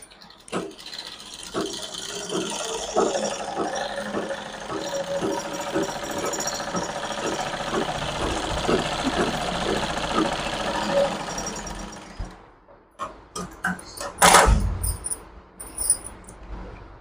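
A sewing machine joins a jacket lining to saree cloth, running in a steady rapid mechanical chatter for about twelve seconds before stopping, followed by brief handling clicks and a loud rustle of fabric.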